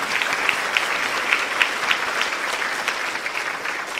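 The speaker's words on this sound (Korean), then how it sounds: "다시 한번 박수 부탁드리겠습니다." Audience applause at a Democratic Party special lecture event in Busan fills the room, a dense steady wash of many hands clapping with no voices over it.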